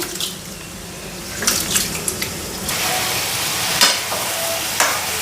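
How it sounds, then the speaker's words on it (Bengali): Rice grains being washed in water in a home kitchen, a steady wet swishing and trickling with a few louder splashes and clinks, under a faint sizzle from cooking nearby; no talking. "তো এইদিকে চালটা ধুয়ে নিই"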